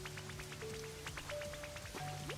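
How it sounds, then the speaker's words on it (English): Rain falls in the Pokopia video game, a soft, steady patter of drops under gentle game music tones and chimes, faint and continuous. "Oh my god, it's raining."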